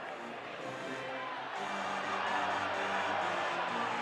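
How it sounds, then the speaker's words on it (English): A hockey arena crowd at an NC State versus UNC college game rising into a sustained swelling murmur of oohs and aahs, a steady broad roar that grows louder midway. "I'm not sure why the crowd started oohing and awing"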